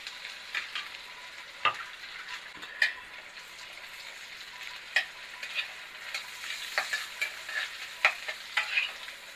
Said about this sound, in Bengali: ততক্ষণ পর্যন্ত পেঁয়াজটা এদিকে ভাজা ভাজা হচ্ছে।